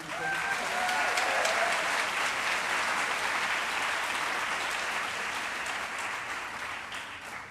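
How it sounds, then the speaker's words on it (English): Loud, sustained applause from a large crowd at a school convocation, thick and steady, slowly tapering toward the end. "So let's give a round of applause to Mr. Kane"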